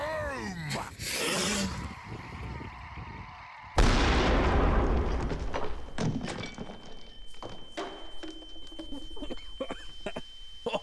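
A barrel bomb goes off in a video game with a sudden loud, broadband blast that rolls into a long rumbling, crackling tail of debris and scattered thumps.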